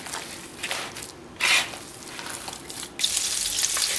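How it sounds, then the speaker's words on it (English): A steady hiss and crackle of hamburger patties frying in a hot pan, with brief surges of louder sizzling, no voices. "we're going to cook these in a frying pan"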